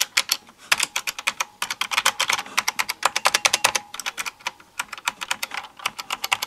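Typing on an Expo 486 mechanical switch computer keyboard, a vintage model, with a fast, steady stream of crisp, loud clicks and short pauses between bursts, close up with no talking.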